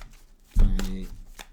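Tarot cards shuffled during a reading: one brief, close riffle of card noise rising out of a quiet room.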